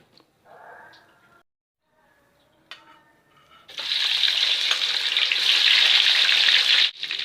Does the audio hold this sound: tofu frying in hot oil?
yes